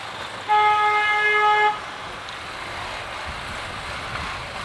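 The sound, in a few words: car horn honking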